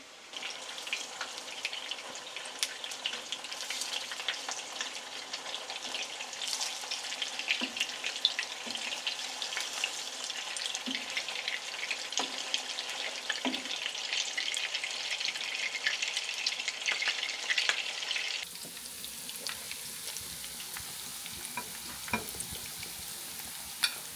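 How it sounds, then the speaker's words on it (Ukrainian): Fish sizzles steadily in a frying pan after a catch of zander, a continuous close crackle with scattered pops, softening and turning more muffled near the end as a lid goes on over low heat. "накриємо кришечкою і на невеличкий вогонь, щоб вони далі смажилися"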